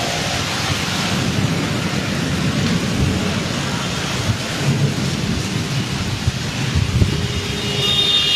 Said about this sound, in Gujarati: સુભાનપુરામાં પણ વરસાદ વરસી રહ્યો છે